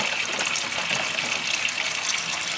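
Tap water gushes steadily into a sink filled with baking soda and water to soak collard greens, a continuous close, broadband rush lasting throughout with no talk.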